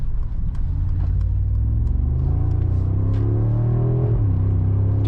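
A 2025 Mercedes-AMG G63 SuperSport G-Class SUV accelerates hard, its engine climbing in a loud, steady roaring rev with a brief dip near the end, heard up close and alone.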